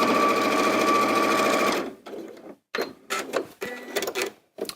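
A small 570 sewing machine runs steadily at full speed while quilting, then stops and gives several short bursts of stitching with brief pauses between them.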